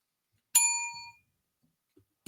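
Bright bell ding struck once, ringing clearly and decaying over about half a second in near silence, followed by a brief low thump.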